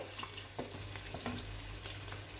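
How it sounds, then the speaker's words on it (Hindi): An egg frying in oil, a continuous crackling sizzle with scattered pops throughout. "तो अंडा हमारा फ्राई हो गया है।"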